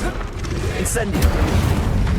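Incendio fire spell cast in the video game Hogwarts Legacy, a loud rumbling whoosh of flame with a brief bright flare, over dense game noise and a voice.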